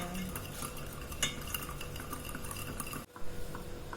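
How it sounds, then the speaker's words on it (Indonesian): Eggs and sugar are whisked by hand for a no-bake cheesecake, producing a soft, continuous scraping and clinking of a whisk against a bowl, close and steady with no talk. "Kocok pelan-pelan."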